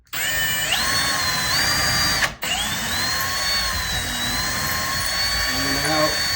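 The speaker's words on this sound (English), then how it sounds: "Let the drill do the work." A power drill whines steadily at high speed drilling holes in a cabinet door, pitch rising as it spins up, with a brief stop midway before it runs again, close and loud.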